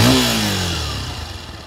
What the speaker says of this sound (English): And flip the throttle a little bit.